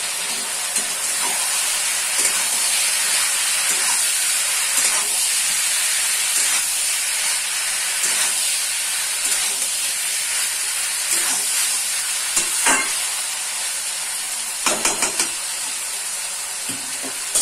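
Chicken with green chillies, onion and capsicum sizzles steadily in a pan while being mixed, a soft continuous hiss with light scraping stirs and occasional clinks near the end.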